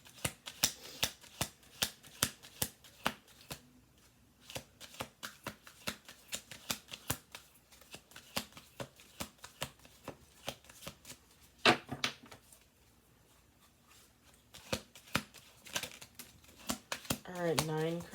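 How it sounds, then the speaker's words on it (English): Oracle cards are shuffled by hand in a run of crisp riffling bursts and soft slaps, some quick and clustered, others spaced out, with a brief voice near the end. "Okay, we're doing 2 more shuffles."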